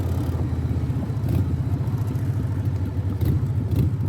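A steady motorcycle engine drones at medium pitch while riding, with a constant low rumble and a few slight surges in throttle.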